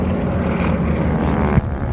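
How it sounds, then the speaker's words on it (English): A gray Zero fighter makes a low attacking pass at the Warbirds over Monroe 2023 Pearl Harbor reenactment, its propeller engine roaring steadily nearby, with a single sharp thump near the end. "Zero, the gray airplane right here in front of you, attacking, dropping bombs."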